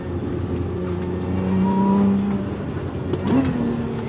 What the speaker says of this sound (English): You can do a little heel toe double clutch like that.